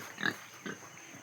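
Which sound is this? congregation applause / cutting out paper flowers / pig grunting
pig grunting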